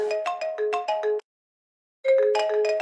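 An incoming-call phone ringtone plays as a bright melodic electronic tune in two bursts with a short silent gap between them, clear and close with no voices.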